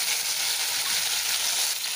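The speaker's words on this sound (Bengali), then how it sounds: "এখন এই আলুগুলো ভেজে নেব" Steady, dense sizzling of potatoes frying in hot oil, a continuous crackling hiss with no voices.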